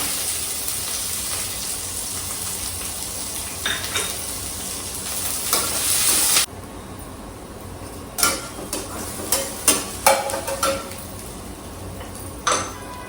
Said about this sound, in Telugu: నెక్స్ట్ ఒక చిన్న ఉల్లిపాయ, 2 పచ్చిమిరపకాయలు పొడుగుగా కట్ చేసి పెట్టానండి, అది వేస్తున్నాను.